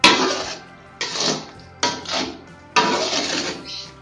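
Metal spatula scraping and clanking in a pan of stir-fried genjer (yellow velvetleaf), in four loud bursts of stirring with brief pauses between, no talk.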